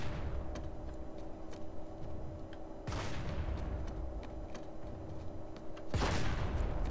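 Gunfire in the video game PlanetSide 2: two sharp, loud reports spaced about three seconds apart over a steady low mechanical hum, with fainter distant shots ticking in between.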